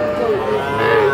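A young calf moos in a drawn-out, wavering call at a busy cattle market in Raniganj, with people talking close by throughout.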